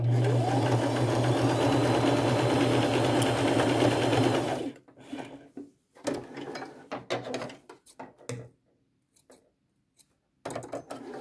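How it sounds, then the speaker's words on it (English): A sewing machine stitches patches onto a flannel shirt, running loud and steady for about four seconds before breaking into short mechanical bursts and brief pauses, with no talk. "I'm going to remove a couple and sew that on just like I did the black side."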